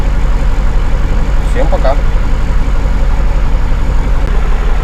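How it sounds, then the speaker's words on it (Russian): A KAMAZ truck's diesel engine idles with a steady low rumble that fills the clip, and a voice speaks briefly over it. "Все-таки у КамАЗа классный звук мотора"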